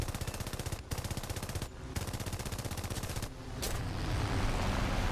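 Four 7.7mm Browning machine guns firing in a video game, a dense unbroken rattle of rapid shots with two brief pauses, loud and close, ending in a heavier roar of continued fire.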